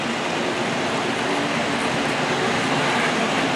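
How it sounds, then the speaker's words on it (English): Eight model diesel locomotives from Hornby, Triang and Lima running together on track, a steady loud continuous whirring rumble with no pauses. "We've actually got 8 locos all running together today."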